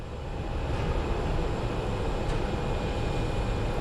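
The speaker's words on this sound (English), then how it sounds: "This looks like a UPS A300 coming in." A UPS Airbus A300 cargo plane comes in to land at Phoenix Sky Harbor, its engines making a continuous, moderately loud rumbling whine with a faint steady tone and no talking.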